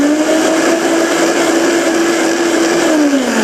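A blender liquefying onions runs at a steady high-pitched whine, loud and close, holding one tone before the motor pitch drops slightly near the end.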